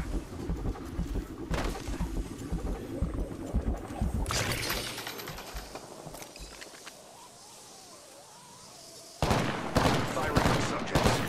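Call of Duty style bursts aside, this is Apex Legends combat: intermittent volleys of gunfire come in loud clusters, fade to a quieter stretch midway, then return sharply near the end, with game voices mixed in.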